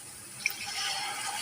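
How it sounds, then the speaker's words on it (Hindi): Water pours into a pan of rice and chickpeas for chana pulao: a small click, then a soft, steady trickling pour, quiet and close. "थोड़ा सा मैं पानी डालूंगी"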